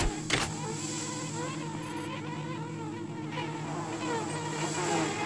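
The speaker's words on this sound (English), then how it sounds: "Guess what? There's more bees." Bees buzz steadily in the sci-fi horror video game System Shock 2, a continuous insect-like drone with a faint mechanical hum underneath, moderately quiet and without talk.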